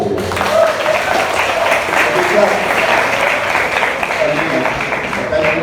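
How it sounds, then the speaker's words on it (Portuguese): Church congregation applauding during a service: thick, sustained clapping fills the room at an even level, with a faint hum of voices mixed beneath it and no pause. "Pode aplaudir o pai de Isaac?"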